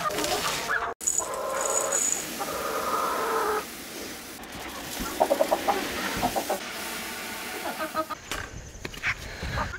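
Chickens cluck in bursts over a busy outdoor background, with a few sharper calls near the end and some rustling throughout.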